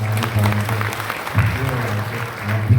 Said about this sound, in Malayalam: നമുക്ക് ഈ തിരുവാർപ്പ് പള്ളിക്ക് നല്ല ഒരു കയ്യടി കൊടുക്കാം